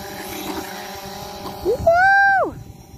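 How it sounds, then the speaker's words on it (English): An RC truck launched off a ramp over a flying DJI drone, its motor whining and rising in pitch, then a loud rushing sweep that falls away sharply as it passes, over steady outdoor background noise. "We're going to try to do a couple more takeoffs and see if we can actually land this thing, jumping it over the drone."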